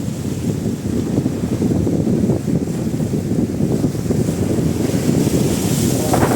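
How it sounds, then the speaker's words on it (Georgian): Waves roll and foam along a windy Italian shore, a loud, continuous roar of surf mixed with heavy wind buffeting the microphone, with no voices. "მთელი დღე ვუყურო ამ ზღვას, ამ ქაფს და ამ ტალღებს"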